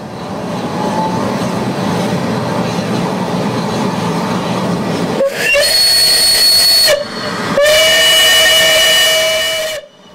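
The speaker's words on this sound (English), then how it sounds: "the locomotive is uncoupled and prepares to head into Crewe Works" Merchant Navy class steam locomotive Clan Line, uncoupled and heading into Crewe Works, hisses loudly with steam before sounding two sharp, piercing whistle blasts close by.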